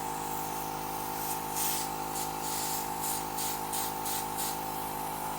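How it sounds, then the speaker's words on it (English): A Dinair airbrush sprays makeup in a steady, close hiss with a few short pulsing bursts over a constant background hum. "I'm going to go ahead and spray guys"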